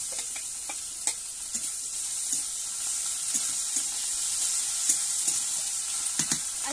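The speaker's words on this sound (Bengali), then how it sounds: "এবারে দিয়ে দেবো পেঁয়াজ কুচি, নেড়ে চেড়ে নেব।" Chopped onion and ginger garlic paste sizzle in hot oil while being stirred, a bright continuous hiss broken by scraping taps of a spoon against the pan.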